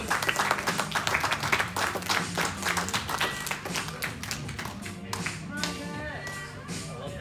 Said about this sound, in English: if we give a huge round of applause